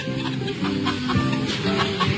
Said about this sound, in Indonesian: Oke, ini ayam batik.